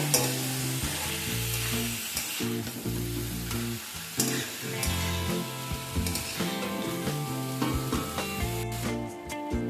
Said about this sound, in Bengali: সমস্ত কিছু একসাথে ভালোভাবে মিশিয়ে কিছুক্ষণ রান্না করে নিতে হবে।